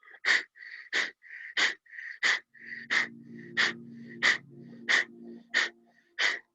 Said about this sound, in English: And now we switch, so exhale right, inhale left.